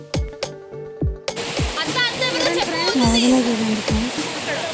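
Cold fresh water rushing and splashing steadily over stones at Cumbum lake in Prakasam district, with sharp clatters and knocks early on and people talking and laughing over it.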